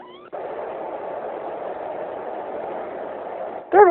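A cat meows in short bursts at the start and end, close and clear, separated by a steady low hum.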